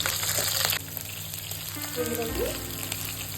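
Green chillies and curry leaves sizzle and fry in hot oil for majjiga sambar, a steady close crackling hiss, with a brief spoken word over it.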